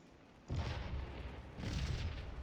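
Artillery in Scourge of War: Gettysburg booms twice, deep rumbling blasts about a second apart, each rolling out into a long low-end tail with no talk over them.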